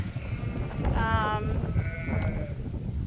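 Lambs on a sheep farm bleat in a few clear, wavering calls over a constant background murmur of the flock and barn noise.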